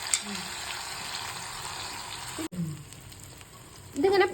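Omelette batter hits hot butter in a pan and sets off a steady, close frying sizzle that breaks off briefly midway, then resumes with a faint bubbling crackle toward the end.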